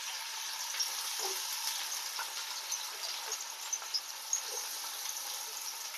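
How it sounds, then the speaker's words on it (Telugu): Onions sizzle steadily in hot oil for chicken pulao, a soft, even frying hiss with occasional small pops and spatters, fairly close and unaccompanied by talk. "ఆయిల్ అనేది హీట్ అయిపోయింది అనమాట. సో ఆనియన్స్ అనేది వేసేసుకున్నాను."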